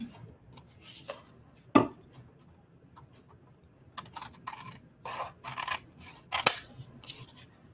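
Scissors trimming paper overage on a papercraft explosion box, a series of crisp snips and rustles, close and fairly quiet, one louder clack among them, no talk.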